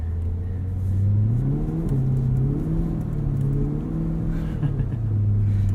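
A Corvette convertible, top down in winter, pulls away out of a parking lot, its engine note rising and dipping steadily close by, with wind rush behind it and no talk.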